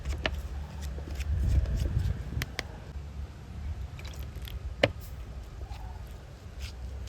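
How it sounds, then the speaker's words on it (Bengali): Dough of mixed ingredients and water is kneaded by hand, with soft wet squishing and slapping close by, uneven in rhythm, plus a few sharp clicks. "জল দিয়ে খুব সুন্দর একটা ডো বানিয়ে নেব।"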